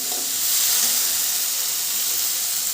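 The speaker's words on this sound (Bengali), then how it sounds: "এবার আমি জল দিয়ে দেব" Water poured into a hot pan of spiced potatoes sets off a loud, steady hiss of sizzling and steam that swells and then holds evenly throughout, close by and with no voices.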